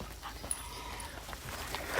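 An excited dog on a hiking trail pants and whimpers softly and close by, in quick uneven breaths, over steady outdoor background noise, with no talking.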